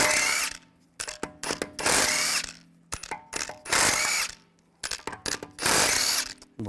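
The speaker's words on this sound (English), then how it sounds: "Remove the lug bolts. I'm going to use a 17mm socket." Rear wheel lug bolts on a 2009-2017 Volkswagen Tiguan removed with a power tool and 17mm socket: four loud, close whirring bursts, each about a second long, separated by brief ratcheting clicks and pauses.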